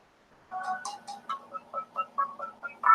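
A phone's ringtone plays a quick run of soft melodic beeps in an uneven rhythm, fairly faint and alone, ending on a louder note.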